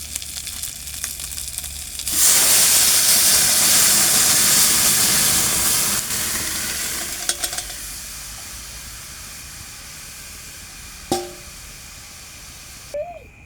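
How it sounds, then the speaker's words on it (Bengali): Lentil dal comes to a boil in a pan, a loud steady sizzle and steaming hiss surging in after a quiet start, then slowly easing off, with a couple of brief clinks near the end. "ডালটা ফুটে উঠেছে,"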